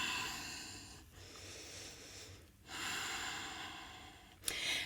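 Slow, audible ujjayi breaths during a power yoga session, long hissing throaty exhales and inhales separated by brief pauses, close and steady, with a sharper breath near the end.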